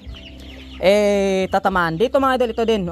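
A PBLT-strain gamefowl rooster calls out with a loud, drawn-out cry up close, then someone speaks over a few shorter clucking sounds.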